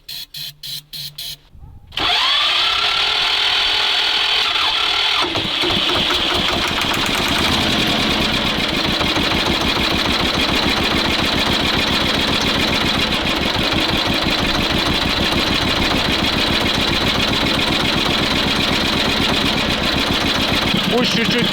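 A T-16 tractor engine cranks briefly, then catches and runs steadily at a loud, rattling idle, a continuous close diesel clatter that holds for the rest of the clip.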